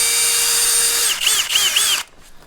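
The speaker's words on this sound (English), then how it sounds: "There we are at depth. That provides a nice countersink" A power drill fitted with a spade bit whines at high speed as it bores a countersink into wood for shed loft screws, with a steady spin, a few short dips in pitch, then a stop.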